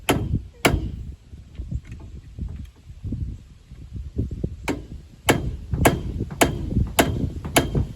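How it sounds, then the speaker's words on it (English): Hammer blows, sharp and close, striking at irregular intervals over low rumbling handling noise. "It's hard to hold this hammer."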